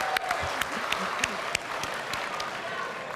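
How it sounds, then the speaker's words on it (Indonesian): A crowd at a televised presidential debate applauds, a steady patter of many hands clapping at medium distance, with a voice speaking faintly beneath it. "Boleh tepuk tangan dulu?"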